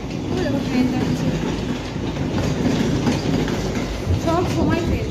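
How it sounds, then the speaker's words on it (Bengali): A train rolls past close by with a steady rumble and rhythmic clickety-clack of wheels on rails, continuous and fairly loud throughout. "ট্রেন যাচ্ছে"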